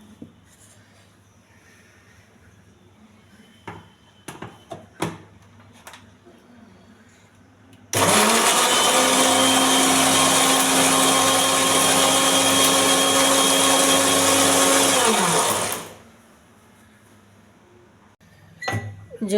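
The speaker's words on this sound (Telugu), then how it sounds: "మిక్సీ వేసుకోవాలి" A mixer grinder blends grapes into juice: a loud, steady motor whine runs for about eight seconds after some light clicks and handling noises, then spins down to quiet.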